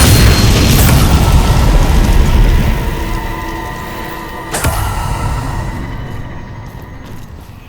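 The Bombarda explosion spell in the video game Hogwarts Legacy: a loud, deep blast with a long rumbling roar that fades over several seconds, then a second sharp crack and a lingering ringing tail.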